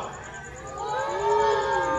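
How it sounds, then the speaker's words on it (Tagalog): A water buffalo gives a low, drawn-out moo rising and falling over about two seconds, fairly close, with faint background noise. "Eh, ang masisipag na mga kalabaw, nasaan?"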